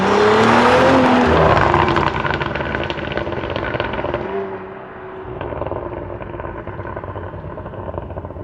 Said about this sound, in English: backfire burbles, Batman. It will non-stop pop basically all the time.